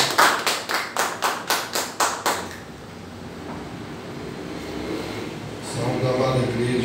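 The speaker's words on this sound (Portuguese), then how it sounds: "Dá uma salva de palmas ao Senhor Jesus" A church congregation claps in steady unison, about ten sharp, evenly spaced claps, then falls into a quiet room hum before a soft murmur of voices rises near the end.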